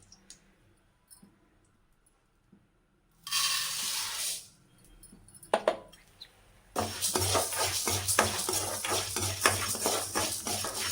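Curry leaves fried in oil in a pan for curry leaf powder: quiet at first, then a burst of hissing sizzle, and after a pause a loud, steady crackling fry with rapid stirring scrapes continuing to the end.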